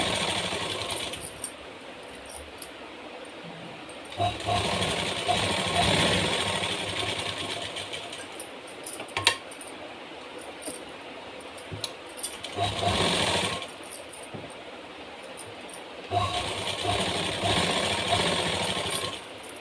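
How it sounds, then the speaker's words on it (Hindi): A sewing machine stitches a blouse in loud bursts of rapid mechanical chatter, several runs of a few seconds each separated by quieter pauses, close up with no talking. "इस तरीके से सिलाई करेंगे इसको देखिए।"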